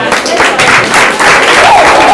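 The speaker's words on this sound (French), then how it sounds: "Applaudissez, applaudissez." An audience at a gathering breaks into a short, loud burst of applause, a dense wash of clapping that fills the whole two seconds.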